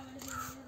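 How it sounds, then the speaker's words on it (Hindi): Crows cawing in a hilly outdoor spot, a brief harsh call heard once over a steady background hum. "देखो कितने कौवे आए हुए यहाँ पर गाइस"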